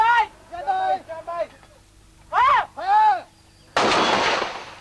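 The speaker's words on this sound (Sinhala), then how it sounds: "පාබල සේනාංකවලට ඉදිරියට යාමට ආධාරක වෙඩි බලය අකණ්ඩව මෙලෙස එල්ල වුණා." Artillery fire supporting advancing infantry during the 2008 Wanni military operation in Sri Lanka: a single loud blast booms near the end and decays slowly, after several short vocal sounds.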